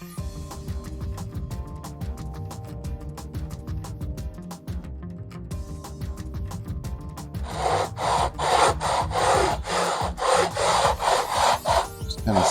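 Sanding a wooden StewMac 5351 soprano ukulele body flat: steady rhythmic rubbing strokes, close and continuous, growing louder and harsher in the second half, with no talking.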